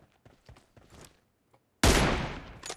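Gunfire in PUBG Mobile: after a quiet stretch of faint footsteps and small taps, a single sudden loud shot cracks close by and rings out, followed by a softer burst near the end.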